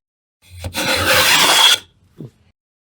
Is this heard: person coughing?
no